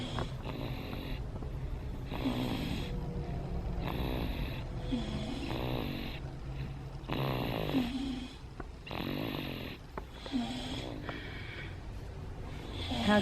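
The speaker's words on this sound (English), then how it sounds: "They're both snoring together." Two sleepers, a father and his daughter, snore together in a recurring rhythm of rough, nasal inhales and snorts, close and steady with no talking.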